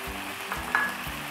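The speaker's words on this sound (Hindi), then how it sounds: "बस 1 मिनट इसको ज़रा और मज़ीद भून लेंगे। 1 मिनट हो चुका है और मैंने फ्लेम भी तेज़ कर दी है।" Chow mein vegetables, finely cut carrots among them, fry and sizzle in a pan over a high flame with a steady close hiss and a few soft stirring scrapes.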